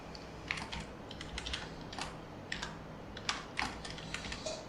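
Steady typing on a computer keyboard, a fast irregular run of light key clicks with occasional louder taps, close and fairly quiet over a low background hum, with no voices.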